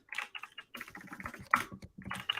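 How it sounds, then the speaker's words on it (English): Typing on a computer keyboard, close up, in quick bursts of clicking keystrokes separated by short pauses, one louder key strike midway. "Excuse my typing."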